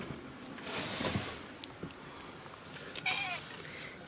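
Domestic cats meow faintly indoors, with two brief, soft calls about two seconds apart against a quiet room background.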